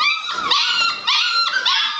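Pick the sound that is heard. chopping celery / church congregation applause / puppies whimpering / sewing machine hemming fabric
puppies whimpering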